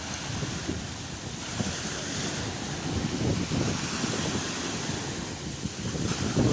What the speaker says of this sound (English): there's some big waves coming